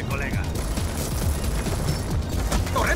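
Rapid gunfire in the video game Call of Duty: Black Ops 2, a dense fusillade of close, loud shots over the full few seconds with little pause.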